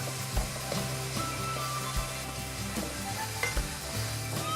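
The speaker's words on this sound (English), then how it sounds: "we're going to add in the mushrooms and the pepper next. Give that a mix in." Mushrooms and pepper frying in a pan sizzle steadily up close, while a utensil stirs them with a few dull knocks against the pan and scraping sounds.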